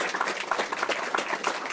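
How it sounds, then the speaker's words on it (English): An audience at an APEC event applauds, a dense, even patter of many hands clapping for a brief stretch. "if you wouldn't mind helping me give them a round of applause"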